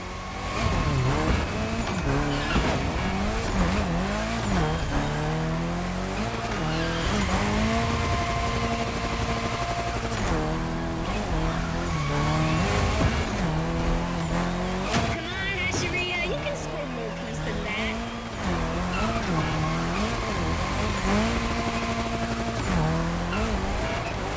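Toyota Supra Ryujin Edition drifting in the racing game The Crew Motorfest, with engine revs rising and falling in repeated sweeps and tires squealing through long slides, played over background music.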